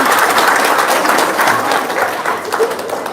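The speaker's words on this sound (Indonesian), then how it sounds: "Tepuk tangan." An audience claps and applauds, dense and loud throughout, easing slightly toward the end.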